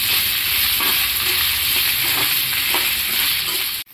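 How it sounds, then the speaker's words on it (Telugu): Ginger and dried red chillies sizzling in hot oil in a pan for Guntur-style ginger pickle, a steady loud frying hiss with occasional soft stirring scrapes, ending abruptly. "అవి కూడా వేసుకొని బాగా వేపేసుకోవాలి."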